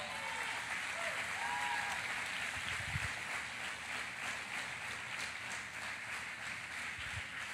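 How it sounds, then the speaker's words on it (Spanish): A church congregation applauds during a sermon, a soft, steady wash of clapping from a room full of people, with faint low thumps now and then. "¿Alguien puede un aplauso a la palabra?"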